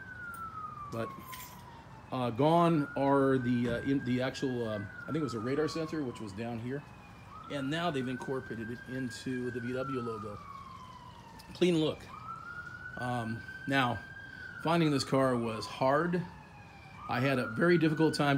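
An emergency vehicle siren wails near a hospital, a rising and falling tone repeating in long cycles a short distance away, running continuously beneath someone talking.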